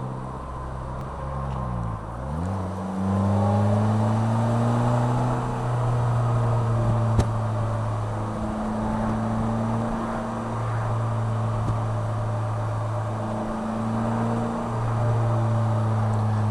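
A Polaris Slingshot roadster engine drones steadily up close, its pitch dropping sharply and then holding, with gentle rises and falls as the throttle changes.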